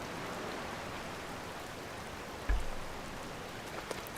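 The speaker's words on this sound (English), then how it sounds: "Oh no, it's raining." Rain in Zelda: Tears of the Kingdom falls as a constant soft hiss, fairly faint and even, with one brief low thump partway through and no voices.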